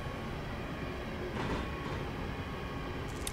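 An electric passenger train on the Trent Valley line in Train Sim 2019 runs steadily, a constant rolling rumble of wheels on rails with a brief swell of higher motor whine midway and no talking.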